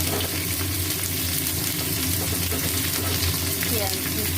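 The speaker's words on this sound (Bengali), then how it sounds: "পেঁয়াজ দিচ্ছি, এটা খুব ভালো করে ভেজে আসছে।" Onions frying in hot oil with garam masala, cumin seeds and bay leaf for a chicken kosha: a loud, steady sizzle with occasional stirring scrapes, continuous and close.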